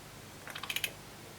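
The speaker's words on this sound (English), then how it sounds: "I'm using a rubber keyboard." A rubber waterproof computer keyboard being typed on, giving a short run of about six soft, muted keystrokes close by, with no talking.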